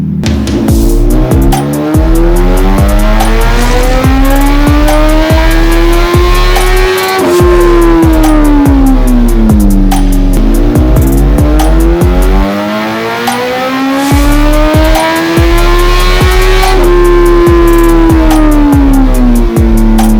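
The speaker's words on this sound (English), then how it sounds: "It's about warmed up now, so let's go ahead and run it." A 2022 Suzuki Hayabusa fitted with drop-in cams roars on a dyno, its engine pitch climbing and falling through repeated loud pulls with a steady mechanical drone underneath and no talk.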